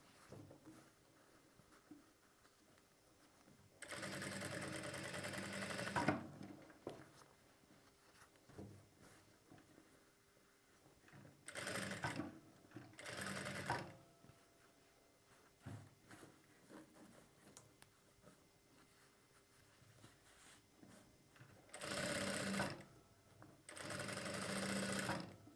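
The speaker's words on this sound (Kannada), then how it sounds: "ಈ ರೀತಿ ಒಂದು ಕಿನಾರಿ ಹೊಲಿಗೆ ಹಾಕ್ಕೊಂಡು" A sewing machine stitches the neck edge of a round-neck blouse in several separate bursts of steady whirring, each a few seconds long, with quiet pauses between them and no talk.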